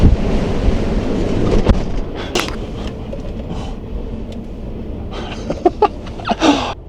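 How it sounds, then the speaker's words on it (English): Gusty wind at Cotopaxi volcano roars and rumbles against the microphone throughout, loud and close, with a few brief knocks and rustles toward the end. "Wow, it's kind of windy."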